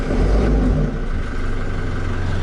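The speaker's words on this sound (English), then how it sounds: "I'll just give it a bit of a rev for you." A 2010 Toyota Coaster bus engine revs up close, a low rumbling roar that swells early and then settles back toward a steady idle.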